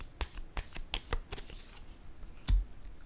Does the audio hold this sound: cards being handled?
yes